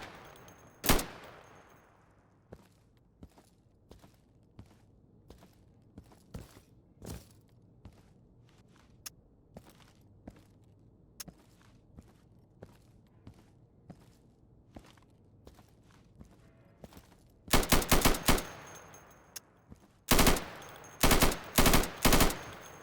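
Gunfire on a target range in the shooter game Insurgency, with sharp single shots scattered through the clip and rapid automatic bursts near the end, firing through plywood targets amid light footsteps and handling noises.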